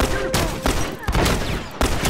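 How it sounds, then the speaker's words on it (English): Rapid video-game gunfire punches through a wall in a multiplayer shooter, with several sharp, loud volleys and bursts close by in quick succession. "He's shooting through the wall."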